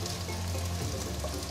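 Shiitake mushrooms spread out in a flat frying pan sizzle in a small amount of oil, a steady, close crackling hiss over a low hum, with no voices.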